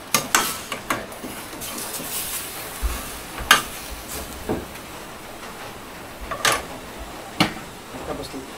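A spoon scrapes and knocks against a pan while papaya fries and sizzles, with sharp clatters breaking up a steady crackle at close range and no one talking.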